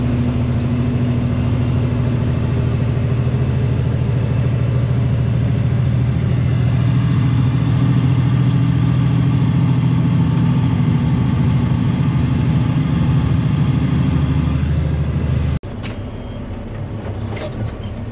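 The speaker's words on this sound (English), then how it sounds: "just driving in circles" Engine hum from a vehicle at a landscaping company driving in circles, a steady, loud drone heard from inside, which stops abruptly near the end, leaving quieter background noise.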